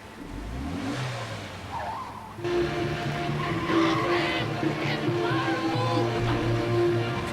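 In the Sam & Max video game, a car's tires screech in a sustained skid as its engine revs loudly, the sound shifting midway into a steady engine roar.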